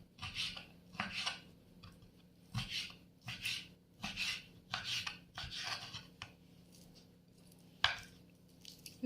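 About 500 grams of beef is chopped into large pieces with a knife, giving a dozen or so crisp, evenly spaced blade strikes on a board, close and clear in a quiet kitchen.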